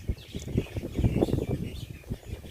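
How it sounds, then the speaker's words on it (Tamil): Birds call faintly from a fruiting banyan tree in a village, with scattered light chirps under heavy gusting wind that buffets the microphone. "அதுவும் இல்லாமல் பறவைகளும் அதிகமாக இருந்தது."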